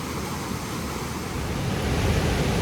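Rushing water from Bark Camp Creek Cascades in Daniel Boone National Forest near Corbin, Kentucky, a steady broadband roar of flowing creek water that swells slightly louder toward the end, with no voices.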